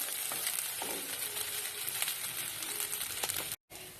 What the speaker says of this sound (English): Now you have to stir it for some time, 30 to 40 seconds, or maybe for 1 minute